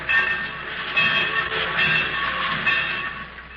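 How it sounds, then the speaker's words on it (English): Steady rumble and clatter of rail cars in a train yard, moderately loud and continuous, with faint metallic ringing tones. "In the railroad yard."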